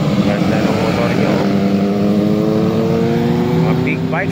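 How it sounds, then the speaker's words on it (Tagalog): Big bike motorcycles, a Harley among them, ride past in a steady, loud engine drone whose pitch rises and falls as the machines pass, with voices underneath. "Mga big bikes."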